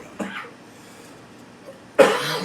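A person coughs after smoking weed during a Detroit radio interview: a short cough early on, then a louder harsh burst of coughing near the end, close to the microphone with no talking.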